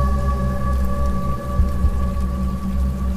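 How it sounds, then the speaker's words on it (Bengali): Steady rain pours over a quiet bamboo grove in a horror animation, a dense even hiss with a low rumbling undertone, with no voices. "এখানে বৃষ্টির শব্দটাও কেমন যেন ভৌতিক মনে হচ্ছে"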